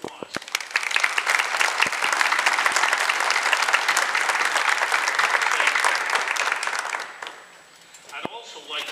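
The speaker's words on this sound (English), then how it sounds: "Please stand and get a well-deserved round of applause." Audience applause fills a grand opening ceremony for a college automotive expansion, a steady dense clapping from a sizable crowd that fades near the end before a brief voice returns.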